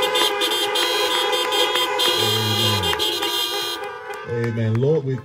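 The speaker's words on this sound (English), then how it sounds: "I want you to honk your horn and let the East End know God has been good to me" Car horns honking at a drive-in park worship service, several sustained toots overlapping in bursts over a droning tone, loud and close.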